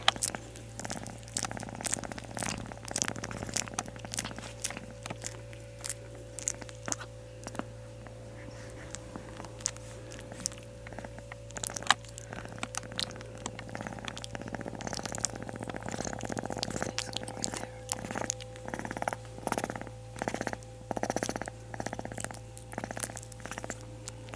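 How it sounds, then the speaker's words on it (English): A three-week-old cougar cub purrs steadily and softly up close, a low continuous rumble pulsing with each breath, with occasional quiet rustling. "If we quiet, she'll purr."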